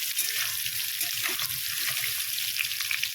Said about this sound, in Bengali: এবার আলুটাকে একটু আমি ভেজে নেব।